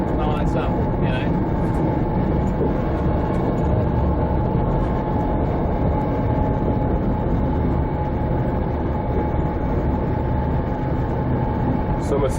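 A diesel train runs steadily, heard from inside the cab as a loud, continuous rumble and roar with no breaks.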